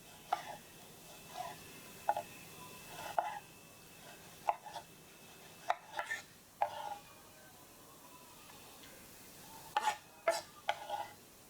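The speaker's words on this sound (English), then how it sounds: "And now I'm going to chop the tomatoes." A knife chops tomatoes on a board in sparse, irregular clicks, about a dozen crisp, close strikes separated by quiet pauses, with no speech.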